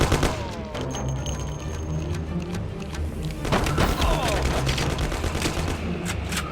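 Gunfire crackles through a shootout in the video game Mafia, with a steady rattle of repeated shots over low rumbling that swells louder midway and continues to the end.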